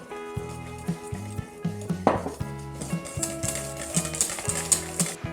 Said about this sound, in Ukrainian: Додаємо кефір, замішуємо